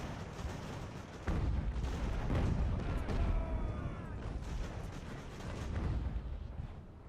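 Mortar artillery fire in the naval strategy game Ultimate Admiral: Age of Sail, a run of deep, rumbling booms and distant blasts rolling over one another in a dense, continuous barrage of battle noise.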